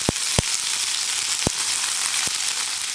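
Three dried red chillies and curry leaves sizzle in hot oil for a beans and potato mezhukkupuratti, giving a constant bright hiss punctuated by a few sharp popping crackles.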